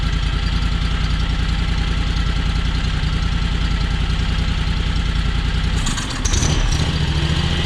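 A John Deere X585 lawn tractor engine idles steadily and loudly at close range, cold and running with an unrestricted air intake, its even mechanical drone holding for several seconds before a brief dip and slight change in pitch.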